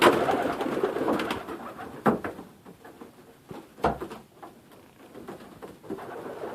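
Pigeons coo in a loft of young birds, soft repeated murmuring calls mixed with wing flutters, scuffs and tapping, close by and steady with no one speaking.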